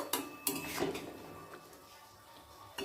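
Tomatoes with Kashmiri red chilli powder being stirred in a pan for a tomato chutney: a few sharp metallic clinks and scrapes of a spoon against the pan, then quieter stirring, fairly soft overall.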